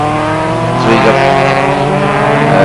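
Race cars at the 1988 Durban street race roar past close by at high speed, a loud, sustained engine howl that swells briefly in the middle as a car passes, with an announcer's voice faintly mixed underneath.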